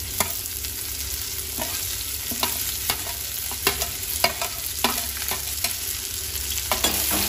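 Cabbage frying on high flame for a cabbage and chana dal curry, a steady hiss of sizzling oil broken by repeated rhythmic clacks of a spatula stirring against the pan, close and without speech.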